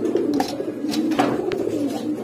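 Bombay pigeon pair cooing, a low, soft burbling coo running steadily under faint background noise, close by.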